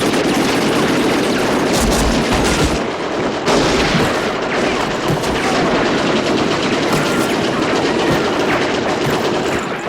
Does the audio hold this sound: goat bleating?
no